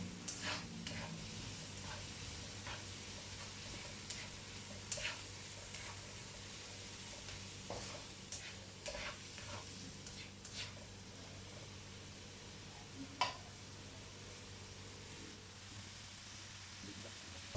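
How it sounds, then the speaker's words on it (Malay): Chopped shallots sautéing in a pan for baked cheese macaroni, a steady low sizzle with occasional stirring clicks and scrapes, quiet and continuous. "Masukkan bawang Holland, lepas tu kita macam biasalah kita tumis kan"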